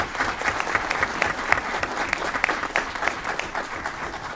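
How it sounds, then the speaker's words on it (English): Applause at an Aurora city council meeting for an award recipient: a steady, dense crowd of clapping hands with sharp individual claps standing out, sustained and fairly close throughout. "Please give a round of applause to Erin Miller."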